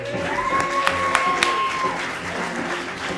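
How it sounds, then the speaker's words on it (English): A comedy club audience gives a comedian steady applause, with a few sharp, prominent claps near the start and a brief whistle, then a gradual tapering-off. "round of applause for comedy's Ron Babcock."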